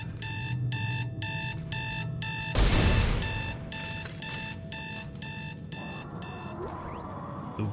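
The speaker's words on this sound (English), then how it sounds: "The worst sounding alarm clock in the world." An alarm clock in the sci-fi horror game Dead Space 2 rings in loud, evenly spaced electronic beeping bursts over a steady background hum, briefly swamped by a harsh noisy blast midway, with no talking.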